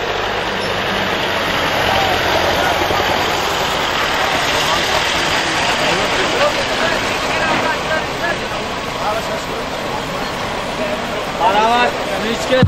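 A tractor engine runs at a steady, rumbling idle throughout, with a busy outdoor crowd talking and shouting over it and occasional louder bursts near the end.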